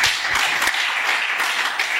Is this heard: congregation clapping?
yes